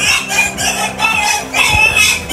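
Chickens and a rooster call loudly and close by, with repeated clucking and crowing phrases in a steady rhythm, while a low engine-like hum runs underneath.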